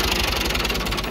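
A 240 tractor engine runs steadily while pulling a maize raker, a close, continuous low rumble with a rhythmic knocking pulse and no break throughout.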